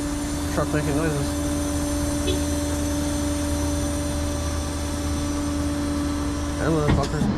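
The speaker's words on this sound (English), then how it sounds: "Truck making noises." A Ford E250 diesel van drones with a steady, loud engine hum and whine throughout, while someone speaks briefly near the start and again near the end.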